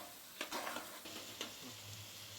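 Chopped tomatoes and other chicken biryani ingredients sauté in a pan with a soft continuous sizzle and a few quick stirring scrapes, quiet and close.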